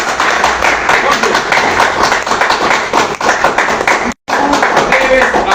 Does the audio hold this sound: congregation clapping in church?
yes